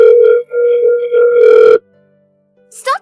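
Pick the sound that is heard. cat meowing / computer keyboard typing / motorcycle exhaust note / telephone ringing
telephone ringing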